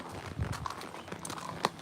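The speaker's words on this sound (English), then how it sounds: "hacking is when you take a horse for a walk down the driveway, pretty much" Hooves of a horse clip-clop at a walk on a driveway, a few irregular close hoof strikes over a soft outdoor background.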